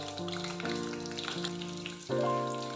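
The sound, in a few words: chicken liver and gizzard frying and popping in oil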